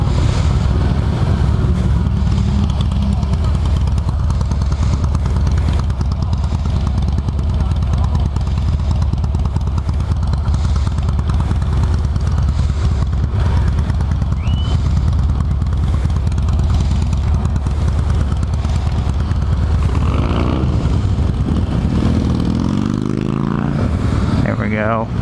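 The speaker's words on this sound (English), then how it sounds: "officially done riding Harley-Davidsons" A Harley-Davidson motorcycle is ridden on a German roadshow, its engine rumbling low and constant beneath loud, buffeting wind noise that lasts throughout.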